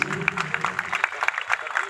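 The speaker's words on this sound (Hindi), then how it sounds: "जोरदार तालियां होनी चाहिए इन सभी कमांडर्स के लिए" A crowd claps together in a brief burst of steady applause for police commanders at a ceremony, fairly close and loud.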